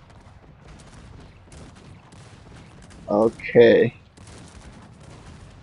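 Cannon fire from the strategy game Cossacks 3, with two short, heavy booming bursts close together in the middle over a low bed of faint clicking battle noise.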